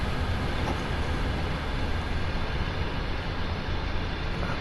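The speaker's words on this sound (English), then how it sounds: "we are pulling rather a large train" Large heavy freight train in Train Sim World 2 on Sand Patch Grade, a steady loud rumble of engines and rolling cars continuing throughout with no gaps.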